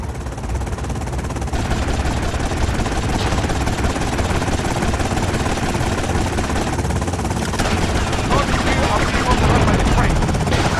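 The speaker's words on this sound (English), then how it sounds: "Oh my god, they've got a helicopter!" A loud, continuous helicopter rotor thrum in the video game Grand Theft Auto: Vice City fills the scene, mixed with rattling gunfire-like bursts and dense game noise throughout.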